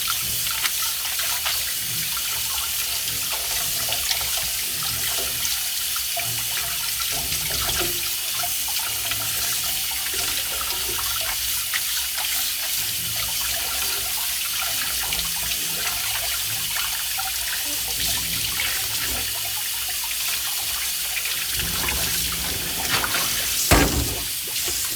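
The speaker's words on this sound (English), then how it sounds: "It's cold water. This is cold water." Cold tap water runs steadily into a kitchen sink, a continuous close hiss and splash with small splashing changes throughout and no talking.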